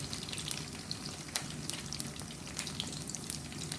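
Meatballs frying in oil at a street stall in Buriram, Thailand, giving off a steady bubbling sizzle with scattered crackling pops at close range and no voices.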